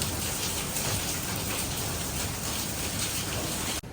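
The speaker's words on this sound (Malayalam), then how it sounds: "നല്ല ശക്തമായ മഴ കേട്ടോ." Heavy rain pours down in a steady, dense rush of drops striking surfaces, loud and unbroken until a sudden cut at the very end.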